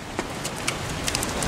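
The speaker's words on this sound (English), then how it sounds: "we've got flipping rain" Rain falls on a farm field where cows feed on round bales, a steady hissing wash with scattered sharper drop taps, fairly close and alone without talk.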